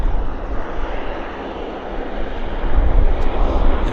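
A WestJet airliner at Vancouver Airport roars with a broad, steady engine rumble that holds loud and close throughout, swelling slightly toward the end.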